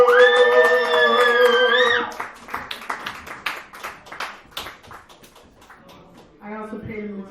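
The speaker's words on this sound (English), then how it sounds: "Give me a clap, clap, clap, clap, clap" A comedy audience in a dive bar claps after a few seconds of talk, a loose scatter of hand claps fading out, with a voice returning near the end.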